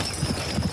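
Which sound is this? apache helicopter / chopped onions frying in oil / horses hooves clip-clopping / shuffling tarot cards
horses hooves clip-clopping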